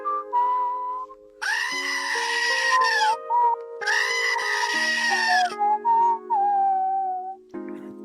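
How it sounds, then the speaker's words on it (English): A goat bleats in two long, loud, wavering cries close by, separated by a short gap, with softer whistle-like tones around them. "For those who don't speak the language of the goats, here it is one more time, with its English translation delivered directly by the goat himself."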